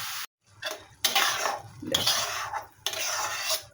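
Carrot pieces being fried and stirred in oil in a pan, close metallic scrapes of a spoon against the vessel in several bursts separated by short pauses, with a faint sizzle beneath.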